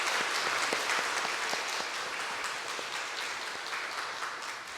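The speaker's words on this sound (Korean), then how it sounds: "그래서 우리 한 번 더 좀 감사의 박수를 드렸으면 좋겠습니다." Congregation in a Korean church applauding during a Sunday worship service: a thick, continuous patter of many hands clapping, loud and close, gradually easing off toward the end.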